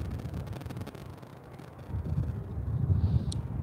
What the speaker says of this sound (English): It is quite windy here in Philadelphia.